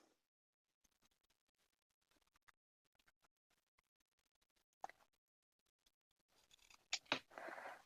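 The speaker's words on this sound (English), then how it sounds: "Then you get your fabric scissors" Fabric scissors cutting along a marked line on quilt fabric, heard as sparse, faint snips and scratches that build into a denser, louder run of cutting near the end, with no talking.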